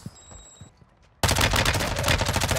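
Gunfire in the battle royale game Call of Duty Warzone, a quiet lull that breaks into a sudden loud, sustained burst of rapid shots.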